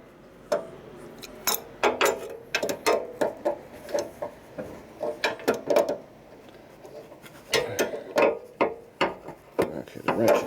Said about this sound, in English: the wrench is spinning over there